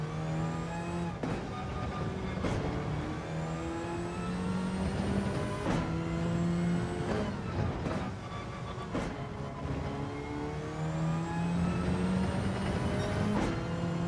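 A Group 3 racing car engine in Gran Turismo 7 revs up and down repeatedly with a thin, high-pitched whine, steady and loud throughout, shifting through gears.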